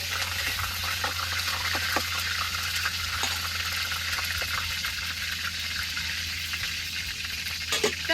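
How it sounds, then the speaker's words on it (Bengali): Oil sizzles and crackles steadily in a wok as it heats for frying eggs, a dense continuous hiss with scattered sharp pops, close and fairly loud throughout with no talking. "ডিম ভাজবার নিকে আমি কড়াই তেল দিয়ে দিচ্ছি"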